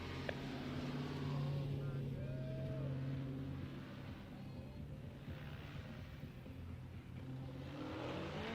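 Car engine revving at an outdoor drift and stunt show, a steady loud engine drone with throttle swells, slightly easing after a few seconds, amid crowd noise and nearby voices.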